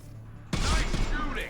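Dense burst of gunfire in the sci-fi shooter game Mass Effect, erupting suddenly after a quiet moment and continuing as loud, rapid overlapping shots close by.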